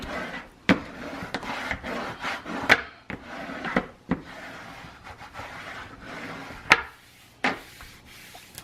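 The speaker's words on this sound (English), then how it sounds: "Now, no more raw edges. Burnish this down really good." Paper edges on a handmade floral cover being burnished down by hand, heard as close, soft rubbing strokes punctuated by several sharp taps and knocks in an irregular rhythm.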